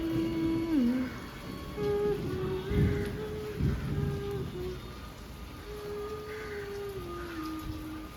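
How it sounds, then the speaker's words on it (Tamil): Rain falls steadily at an outdoor weekend market in Dharmapuri, a soft continuous patter in the background, while sustained tonal sounds and distant activity drift over it. "வெயில் அடிக்குது மழையும் பெய்யுது"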